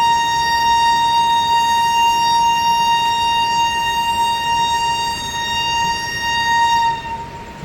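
The Mayurakshi Express runs along a hilly Jharkhand line near Basukinath, giving a loud, steady whine of sustained high tones over a continuous low rumble that drops away near the end.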